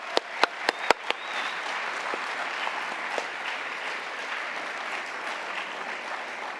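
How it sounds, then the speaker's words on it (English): Audience at a speech competition gives another round of applause, a few loud close claps at the start, then a steady wash of clapping from the crowd that continues evenly. "Let's give them another round of applause"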